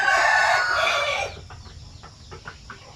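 Chickens at a chicken farm: a loud rooster crow fills the first second, then scattered clucks follow from several birds nearby, with no talk.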